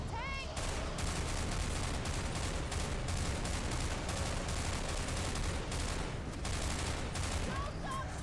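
Sustained rapid gunfire in Left 4 Dead 2 aimed at a Tank, a dense continuous fusillade of overlapping shots running nearly the whole time, loud and close, with faint brief cries at the start and end.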